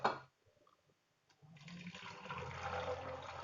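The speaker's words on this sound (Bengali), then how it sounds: "হয়ে গেছে, আমি এখন পানি দেব" Water is poured into a pressure cooker over eggs and potatoes, rising into a steady, rushing splash that grows a little louder as the pot fills, following a brief clatter and a quiet pause.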